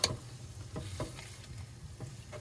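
A spoon stirs spices into a vegetable and greens curry in a pan over a village cooking fire: a few soft scraping strokes spaced irregularly over a faint background sizzle, quiet and close.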